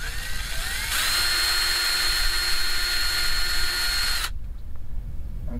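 A power drill bores a hole in an RV baggage compartment door: one high, loud whine spins up, holds for about three seconds, then cuts off abruptly.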